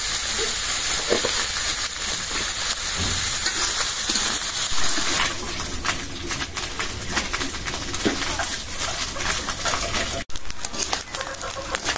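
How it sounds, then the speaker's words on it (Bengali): Small chanda fish frying in a pan of hot oil, a steady, close sizzle and hiss running throughout with faint background sounds. "হয়ে গেল চান্দা মাছ ভাজা।"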